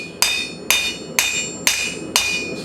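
A blacksmith hammers a quarter-inch steel piece on an anvil to thin a mailbox flag, six evenly spaced, loud ringing metallic strikes with no talking.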